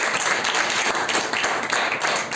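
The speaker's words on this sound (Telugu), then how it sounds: "ఒక్కసారి గట్టిగా చప్పట్లు కొడతారా?" A church congregation at a Sunday service bursts into loud, sustained clapping and applause, dense and continuous throughout with no speech over it.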